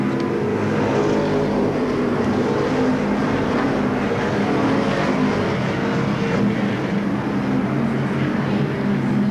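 Stock cars race around Seekonk Speedway, a dense, steady roar of several engines at full throttle blending together from a moderate distance.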